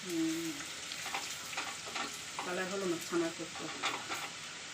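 Steady sizzling of potatoes frying as homemade french fries, a continuous bubbling crackle running under intermittent voices talking nearby.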